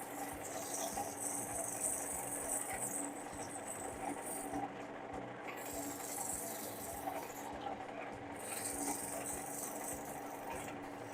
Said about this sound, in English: The resin can be a little bit hard to get an even sanding on sometimes.